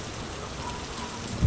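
Rain falls steadily and softly, an even hiss of drops pattering on a roof with no voices.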